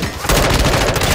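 Rapid bursts of video-game gunfire crackle loudly from a match fought around a house, dense automatic shots filling a brief moment.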